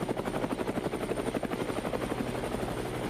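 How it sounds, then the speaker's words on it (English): A hunting helicopter flying over open Texas country after wild hogs, with a loud, steady rotor thump pulsing rapidly and evenly throughout and no voices. "The helicopter kept gliding across the sky."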